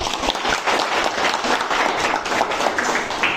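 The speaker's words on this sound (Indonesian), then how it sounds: "kita tepuk tangan" Classroom applause during a lesson on news-writing elements, a group clapping continuously in a dense, fairly loud burst with some sharper individual claps near the start.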